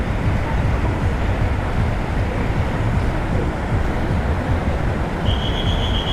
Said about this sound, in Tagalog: lakas-lakas ng alon